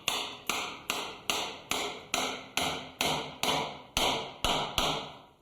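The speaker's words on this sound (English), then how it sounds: "As we drive each spoke in, you'll notice a change in pitch." Wooden spokes being hammered into a buggy wheel hub, a steady run of about a dozen sharp knocks, each ringing briefly before the next, close and clear with no talking.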